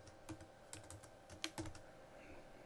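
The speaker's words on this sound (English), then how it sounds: "if I want to work right through autocomplete, I just keep typing." Computer keyboard keys are tapped in short irregular bursts of clicks, close and fairly quiet, while entering text into a spreadsheet with autocomplete.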